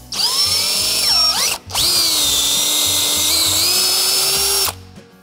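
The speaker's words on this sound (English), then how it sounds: "But we have a magical thing called a drill." A power drill whines loudly at high speed drilling out the ignition lock of a 1963 Cadillac, its pitch dipping under load, a brief pause, then a long continuous run before cutting off.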